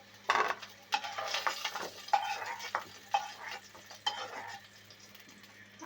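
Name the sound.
lifting fried potatoes out of the pan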